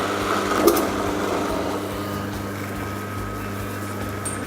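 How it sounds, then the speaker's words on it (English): A juice extractor presses chopped dried coconut meat, producing a steady mechanical whirring hum with a brief clunk early on, loud and close with no voices. "We're going to place it into the juice extractor so that the cream from the coconut meat will just come out onto the plantain"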